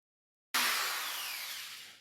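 A power drill with a polishing pad starts abruptly after a moment of silence and runs with a loud, steady whirring grind against a 1968 Mustang's windshield glass.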